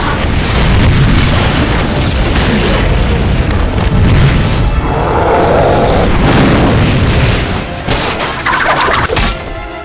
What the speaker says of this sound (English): firing a rocket that destroyed the helicopter